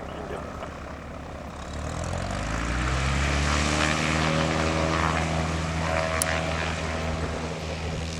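A tow plane's propeller engine swells from a low drone into a loud, sustained roar as it climbs out during glider competition takeoffs at an airfield in the Pyrenees, steady and close with no talking.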